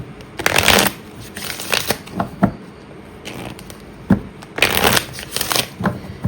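A deck of Soul's Journey lesson cards is shuffled for a tarot reading, giving loud, close riffling bursts in uneven bunches with short pauses between.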